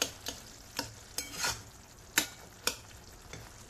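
Sindhi spinach and tomato curry being mashed and stirred in a pan, a low simmering hiss broken by a handful of sharp, separate spoon knocks and scrapes, close by with no speech.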